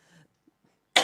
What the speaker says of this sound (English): a little cough right there.